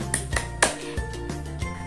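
A class of children claps a rhythmic pattern, sharp hand claps spaced in a steady beat over a background of sustained musical tones.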